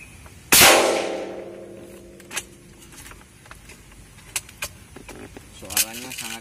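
A Remington PCP air rifle fires a Hercules pellet with a single sharp, loud crack that rings briefly into a metallic tail. Light handling clicks follow, and a voice begins speaking near the end.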